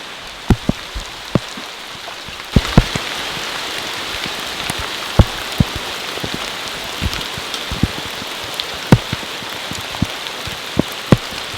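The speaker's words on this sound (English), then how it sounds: "Look at that hail!" A heavy hailstorm pelting a bushcraft camp, with a dense steady patter and frequent sharp, loud impacts striking close by at irregular intervals.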